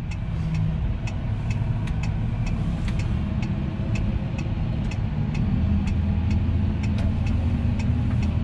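A Fendt 1050 Vario tractor drives along at under 1800 rpm, its engine giving a steady, low rumbling drone, with rhythmic clicking ticks repeating over it throughout.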